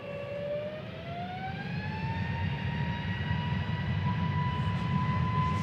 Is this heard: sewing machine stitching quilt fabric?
no